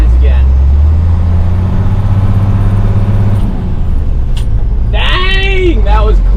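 An abandoned 1981 International truck's engine drones loudly and steadily as it drives, the pitch settling through a gear change before a voice cuts in over the engine.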